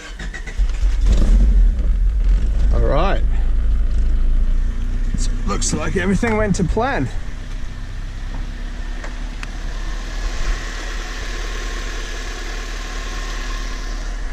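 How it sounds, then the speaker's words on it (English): A car engine idles with a steady low rumble after its battery has been moved to the trunk, under close male speech. "I'm going to try to start the car."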